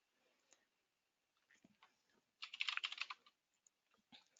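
Computer keyboard typed on briefly to search a web page, with scattered soft key taps and then a dense, rapid burst of close clicking in the middle, followed by a few more taps.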